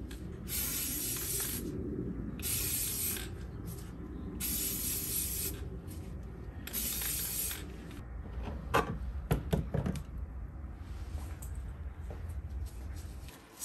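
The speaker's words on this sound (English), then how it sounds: "so we're gonna spray paint this black" Aerosol spray paint hisses out in several short, even bursts with brief pauses between them, close by, coating a tumbler black, followed by a few light clicks and rustles.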